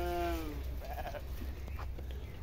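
Sheep and lambs of the Arashan breed bleating on a farm, one clear close bleat at the start followed by fainter calls under a low background hum.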